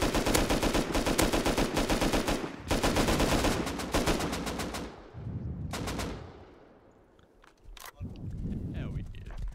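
Rapid bursts of automatic gunfire in the video game Rust crackle loudly, pausing briefly before another long burst, then tapering off into scattered single shots and background noise.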